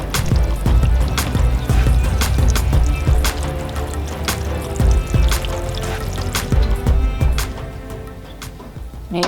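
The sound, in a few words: water poured into a seed-starting tray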